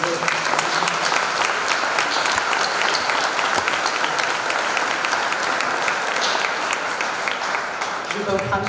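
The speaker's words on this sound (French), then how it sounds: "Oui, on peut l'applaudir." Steady, dense applause from an audience at the inauguration of the renamed René Perron sports complex, loud and sustained throughout with a few voices mixed in near the end.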